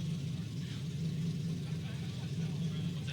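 A race car engine revs under throttle during teardown qualifying, a droning mid-pitched roar held steady at moderate distance, with an announcer talking over it throughout.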